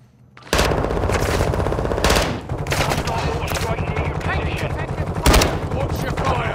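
Sustained automatic gunfire in a military shooter video game, loud and continuous with dense bursts and sharper peaks, alongside radio-style squad chatter.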